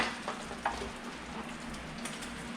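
Fried tacos sizzle on a tray over an open fire, a steady close crackle and hiss with a few louder pops and a low background hum, no voices.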